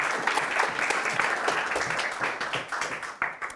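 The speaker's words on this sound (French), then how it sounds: "merci de l'applaudir très fort." An audience at a university thesis-presentation final cheers on the last candidate with loud, sustained applause, a thick crackle of many clapping hands that thins slightly toward the end.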